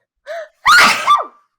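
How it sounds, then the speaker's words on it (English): One loud, explosive sneeze from a person, preceded by a short sharp inhaling gasp, heard close and alone against silence. "That was the most amazing sneeze I've ever heard on this channel."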